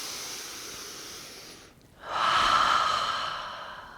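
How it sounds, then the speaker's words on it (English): A deep slow inhale through the nose during a yoga breathing exercise, close and breathy, following a softer airy exhale and a brief pause, with no talk. "And then inhale."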